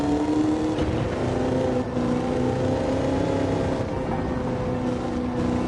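A Ford Roadster with a 4-speed transmission on racing soft tires in Gran Turismo 7 drones with a steady, loud engine note, holding a sustained tone that shifts slightly in pitch as the car runs on without pause.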